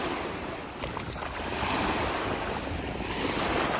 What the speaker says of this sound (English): the waves are just not cooperating